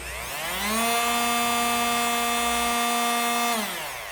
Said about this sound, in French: Donc là, la meuleuse tourne toute seule